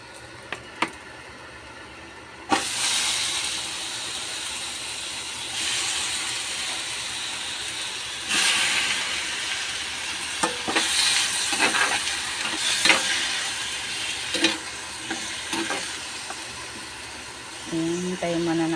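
Chicken pieces drop into a hot pan with broccoli stems and sizzle steadily, with occasional stirring scrapes and clinks close up; a person talks at times over the frying.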